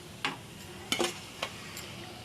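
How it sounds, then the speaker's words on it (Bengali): Dhoka lentil cakes fry in hot oil with a faint sizzle, broken by three or four sharp utensil clinks and scrapes against the pan. "এরকম করেই আমরা আর সব ধোকা ভাজাগুলো ভেজে নেব।"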